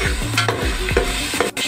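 Yogurt and salt being stirred into masala frying in a pan, a close sizzling bed broken by several quick scraping strokes of a spoon, loud and busy throughout.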